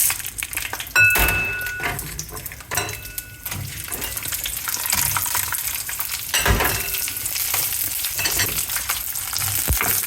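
Red chillies and raw chana dal frying in oil over a low flame for basil chutney: dense crackling sizzle with intermittent spoon scrapes and knocks against the pan, close up and without talk.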